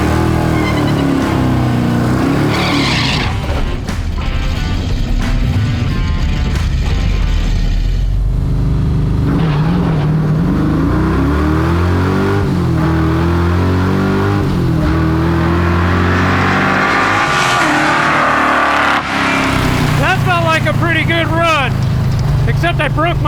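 A 4-speed 327 Chevy Nova drag car launches hard and makes a run, engine revving and roaring loudly with rising and falling pitch through the gears, mixed with wind and a voice speaking over it.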